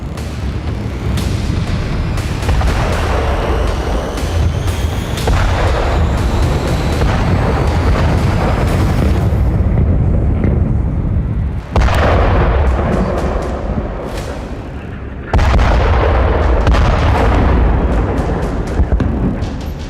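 Heavy booms from Israeli airstrikes on Khan Younis in south Gaza at night roll out loud and continuous, with repeated deep blasts and rumbling bursts layered over one another.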